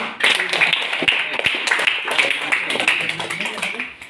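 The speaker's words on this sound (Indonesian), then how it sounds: "tepuk tangan untuk kelompok" A group of listeners in a classroom session on sermon writing claps for a student group, with steady, fairly dense hand claps running throughout and some speech mixed in.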